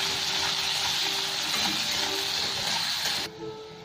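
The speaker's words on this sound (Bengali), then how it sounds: "পেঁয়াজটা একটু লাল লাল করে ভেজে নেবো আমি" Onions sizzling in a pan, a dense continuous crackle up close that cuts off abruptly near the end.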